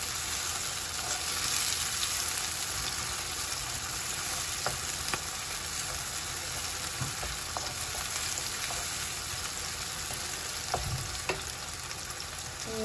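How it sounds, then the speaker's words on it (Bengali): Tempering spices for Rupchanda fish sizzle steadily in a hot pan, a dense continuous frying hiss with occasional faint pops and stirring clicks, close and even throughout. "উপর দিয়ে দিচ্ছি একটু ফাঁসফোড়ন, এটা দিচ্ছি একটু ফ্লেভারের জন্য।"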